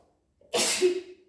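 A single sharp sneeze from a person in a room cooled by air conditioning, preceded by a brief intake of breath, loud and close, with no other sounds.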